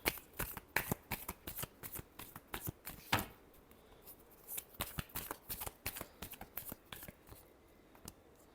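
A deck of tarot cards is shuffled by hand in a quiet room, a rapid run of crisp riffling flutters and snaps repeating in short bursts, faint and close.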